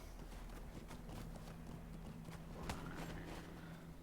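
Steady hoof clip-clop of a horse being ridden in an online fantasy game, a continuous even rhythm running throughout at moderate loudness with a low hum and ambient game sounds beneath.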